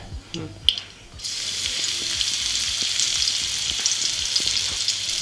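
Garlic and mustard seeds drop into hot oil for kadhi: a few light clinks, then a sudden, sustained, close sizzle that keeps crackling steadily.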